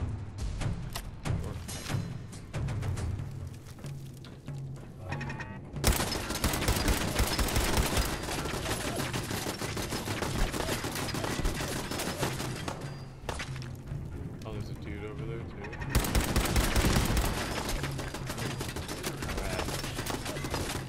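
Rifle gunfire in the video game Fallout 4, with repeated bursts and heavy volleys over about twenty seconds, loud and dense, with brief quieter gaps between rounds of shooting.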